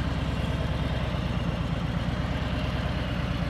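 A motorcycle engine runs at a low, steady idle-like rumble as the clutch engages and the bike begins to creep forward, fairly quiet and even throughout with no voices.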